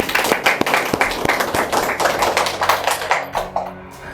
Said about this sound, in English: So a round of applause for Gems TV for that.